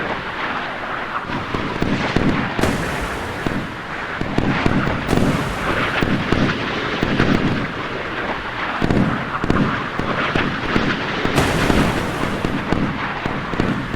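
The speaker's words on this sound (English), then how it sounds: "they're probably going to shoot these harpoons down" Naval guns fire on incoming Harpoon missiles in the Sea Power naval combat game, with German and Norwegian warships facing Iranian vessels. Continuous rumbling blasts and roaring bursts build and overlap across the whole stretch, loud, with no talk.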